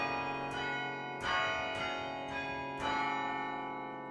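Tower chimes ring as a player strikes a slow melody, about five bell notes spaced roughly half a second apart. Each struck note rings out over the long, overlapping hum of earlier tones. The sound is soft and distant, with no voices.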